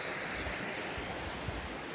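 Water of Luce, a river in southern Scotland, rushing along its banks with a steady, broadband wash of flowing water, fairly close and continuous, with some wind noise on the microphone and no speech.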